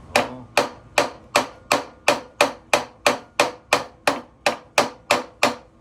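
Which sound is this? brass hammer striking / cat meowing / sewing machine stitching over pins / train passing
brass hammer striking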